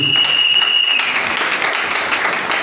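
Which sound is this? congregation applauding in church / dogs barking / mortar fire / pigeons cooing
congregation applauding in church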